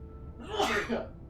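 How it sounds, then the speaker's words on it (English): One close, sharp human sneeze bursting out after a brief intake, loud and alone. "sorry, I'm gonna sneeze"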